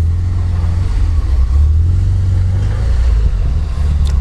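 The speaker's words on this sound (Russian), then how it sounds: "Здесь автомобиль, когда съезжает, попадает в диагональное вывешивание." A Lada Niva 4x4 off-road car climbs a sandy gravel slope with a steady, loud, close engine drone that stays strained and even throughout, with no talk over it.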